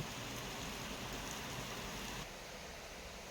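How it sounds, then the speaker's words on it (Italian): Steady rain falls in a dense, even hiss, with a slightly lower level toward the end and no distinct passing cars standing out. "La pioggia è arrivata all'improvviso"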